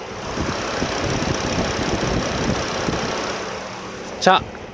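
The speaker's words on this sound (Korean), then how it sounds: "자 엔진은 바로 들어보실게요" A petrol four-wheel-drive SUV engine idles quietly with a low, steady rumble and light ticking, close by, with a brief louder clunk near the end.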